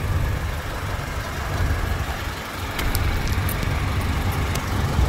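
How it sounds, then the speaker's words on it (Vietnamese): Toyota Innova 2.0 petrol engine from 2008 with automatic transmission idling smoothly and quietly, a steady low hum with faint road and traffic noise around it, no talking. "máy nổ rất là êm luôn"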